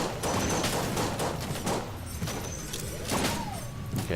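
Shotgun firing in the video game Enter the Gungeon, several booming shots spaced through a busy, dense mix of game effects, loud and close.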